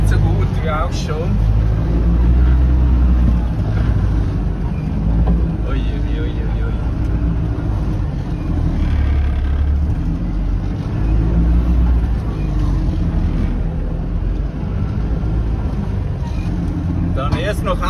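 A truck grinds through desert sand dunes with a heavy, continuous engine roar and rumble, while someone talks over the noise inside the cab.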